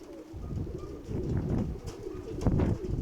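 A pigeon coos in low, throaty, repeated rolls close by, continuous and moderately loud over a quiet outdoor background.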